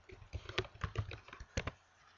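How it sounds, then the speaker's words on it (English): Fingers tap keys on a computer keyboard while typing a name, a quick burst of a dozen or so soft, close clicks in an irregular rhythm, with no talking. "we can click on Find and put in Catherine's name"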